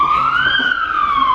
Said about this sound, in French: il y a l'ambulance qui passe